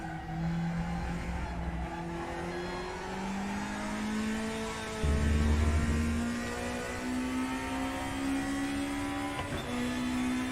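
BMW M3 Group A race car in the RaceRoom racing game, its raspy, raw engine note droning and climbing steadily through the gears, loud and continuous with a brief deeper surge midway.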